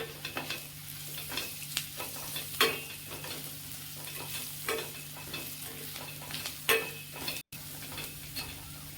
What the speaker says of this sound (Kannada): ಈಗ ಎಲ್ಲನೂ ಚೆನ್ನಾಗಿ ಬಾಡಿಸ್ಬೇಕು. ಫ್ರೈ ಮಾಡ್ತಾ ಹೋಗೋಣ